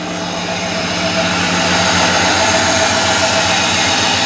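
1953 Chevy with an LS-swapped engine running, a loud steady roar with noisy air cleaners and intake, close and continuous with no talk.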